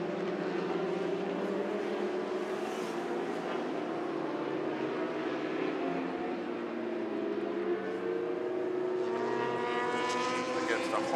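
Superbikes, including a BMW and a Honda CBR 1000 RF, howl along a racing circuit at a Malaysian championship race, their engines a steady drone with rising and falling tones throughout.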